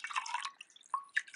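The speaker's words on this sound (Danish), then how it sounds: "Jeg klemmer bare vandet rigtig godt ud." Water dripping and trickling from a wet knitted swatch squeezed by hand, a few quick close drips and splashes, quiet and with no talking.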